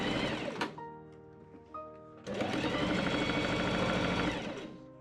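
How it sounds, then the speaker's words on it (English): A sewing machine stitching the side seams of an 1890s Victorian shirtwaist, running in a brief burst, pausing with small clicks, then a longer steady whirring run that slows to a stop. "I pin and machine sew the sides up."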